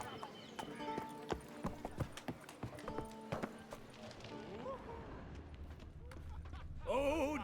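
Roach, a horse in The Witcher 3: Blood and Wine, galloping with a quick, steady clip-clop of hooves that fades toward the end, followed by a close neigh or whinny.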